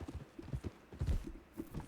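Horse hooves clip-clopping in the video game Red Dead Redemption 2, a quick uneven trot of soft thuds, faint and close without speech.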